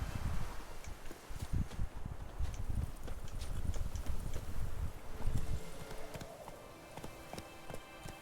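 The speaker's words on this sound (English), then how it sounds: "Giddy up. Not so fast, Roach." Horse hooves clip-clop steadily in The Witcher 3 video game, a continuous run of close, busy hoofbeats with faint rustling behind them.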